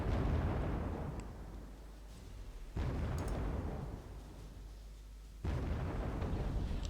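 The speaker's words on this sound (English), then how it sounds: "Do a large bombing run on all of these units I can see" Heavy bombing-run explosions in the war strategy game Wargame Red Dragon: three loud, deep rumbling blasts roughly every few seconds, each rolling off into a sustained low roar, with no talking.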